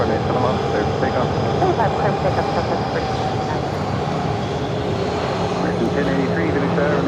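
A plane takes off from runway 7 at Phoenix airport, its loud, continuous engine roar filling the scene without letup. Radio chatter from air traffic control plays under the noise.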